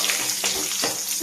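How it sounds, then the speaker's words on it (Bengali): Whole cinnamon sticks, cloves, cardamom and bay leaf frying in mustard oil in a pan, a close, continuous sizzle with a few stirring bursts and no talking. "এইবার আমি আরেকটু সর্ষের তেল দিয়ে এই আস্ত গরম মশলা আর তেজপাতা ফোড়ন দিই"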